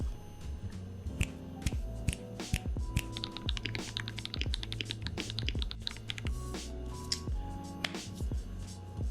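Fingers type quickly on a mechanical keyboard resting straight on the desk with no mat, producing dense, close clacking keystrokes in uneven bursts, loud and alone without any voices.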